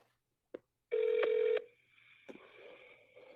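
A telephone keypad sounds a short dialing tone, then a longer steady tone for about half a second, followed by quieter clicks and faint background noise.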